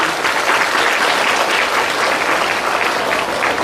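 Loud, dense applause from a crowd, steady and continuous throughout with no voices standing out.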